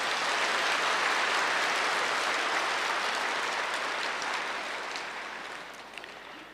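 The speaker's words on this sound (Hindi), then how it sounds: "वाह, ताली बजाओ अच्छी तरह से।" An audience clapping during a Hindi spiritual lecture: dense, even applause from many hands that starts strong and gradually fades toward the end, with no voices over it.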